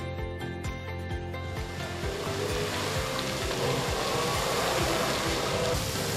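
Water jets of a nighttime musical fountain show in a park rush and hiss as a steady broad wash, with rhythmic music pulsing underneath throughout.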